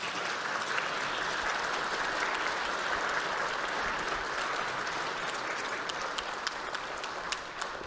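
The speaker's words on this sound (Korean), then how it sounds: "여러분께 큰 박수 한번 부탁드립니다." A large crowd in a legislative chamber applauds continuously, a dense, even wash of clapping that holds steady throughout and thins slightly near the end.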